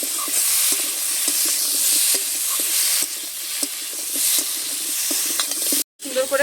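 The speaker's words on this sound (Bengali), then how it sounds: "নেড়ে চেড়ে নিচ্ছি" Spiced pond fish and crab curry is stirred in a pan, with a steady sizzle and frequent light scraping of the spoon, close and continuous, cutting out briefly near the end.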